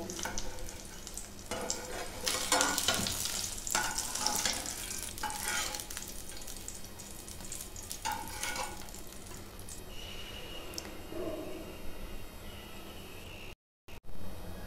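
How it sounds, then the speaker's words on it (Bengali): Brinjal pieces shallow-fry in hot oil with a soft, continuous sizzle broken by bursts of stirring and spatula scrapes, heard quietly and close with no talking. "বেগুনগুলো ভাজা হয়ে গেছে। এবার আমি তুলে নেব।"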